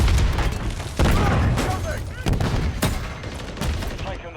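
Gunfire and explosions from a video game, with dense, continuous shots and booming blasts and no break, loud and up close.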